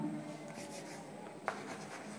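Chalk or marker scratches across a board during a trigonometry lecture, a faint, close scraping with a brief sharp tap midway and no speech.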